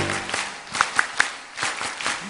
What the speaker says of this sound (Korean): 손뼉쳐